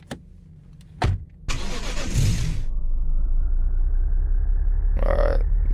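A car in the video game Mimic Search cranks and starts with a couple of sharp clicks, then settles into a steady engine idle that runs loud and close to the end, with a brief burst near the finish.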